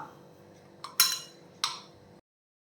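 A spoon clinking against a bowl while moong dal and ragi flour are mixed with water: two or three sharp metallic taps over a faint scraping stir, close and quiet.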